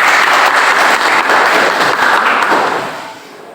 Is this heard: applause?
yes